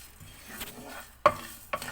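Masala mixed with desiccated coconut is stirred in a pan over a switched-off flame. It gives quiet shuffling, then two sharp, close spoon scrapes near the end.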